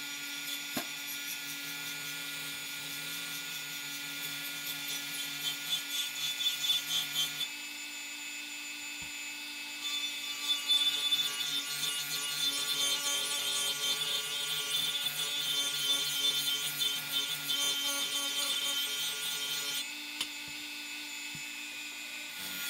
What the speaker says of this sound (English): we're gonna go straight for our 80 grit flapper wheel